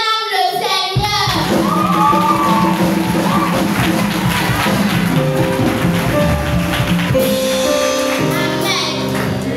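A church congregation at EEAD Temple Bidossessi acclaiming the Lord with loud crowd cheers, shouts and clapping that fill the room, mixed with music and a voice over the top.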